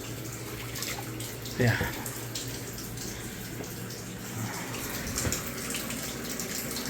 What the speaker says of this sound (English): Let's fill that up with hot water only.